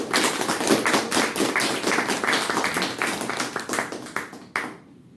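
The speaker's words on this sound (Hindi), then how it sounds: "एक बार जोरदार तालियां।" Enthusiastic applause from a group at an MLM counseling session in Bhubaneswar, many hands clapping loudly for several seconds before it cuts off abruptly.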